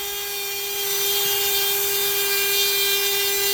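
A Dremel rotary tool with a burr carves an olive wood pipe, giving a steady, even high-pitched whine that holds constant throughout with no pauses.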